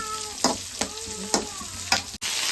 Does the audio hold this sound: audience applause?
no